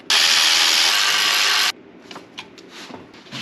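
A power ratchet spins out valley pan bolts on a neglected luxury SUV engine: one loud, steady whirring burst of about a second and a half cuts off abruptly, followed by faint clicks and handling noises.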